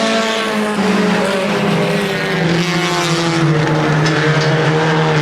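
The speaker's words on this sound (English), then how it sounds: "here comes the winner off of turn number 4, Chris Clark" Dirt track race cars roar at a speedway in Plattsburgh, New York, a loud, continuous engine drone with shifting pitch as the cars pass near, without talk over it.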